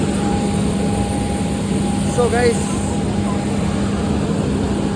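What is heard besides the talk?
airplane engine after landing at airport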